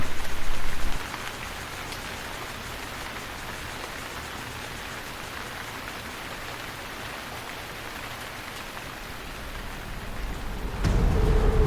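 Steady rain pouring down in a dense, even hiss, with a heavier rumbling gust at the start and again near the end.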